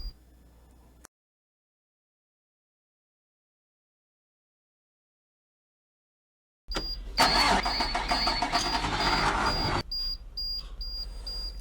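A modded bus 410 in the Rigs of Rods simulator cranks and starts after a long silence, then runs in a loud mechanical clatter with a repeating beep over the engine.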